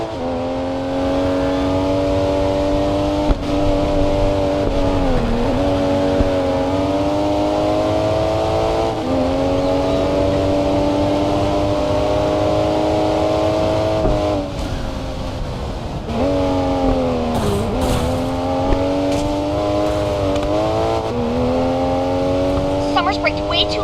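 Race car engines in the Racing Master video game, with a loud, continuous high-pitched whine that rises and falls through repeated gear shifts, plus brief dips when cornering. It continues steadily for the whole stretch.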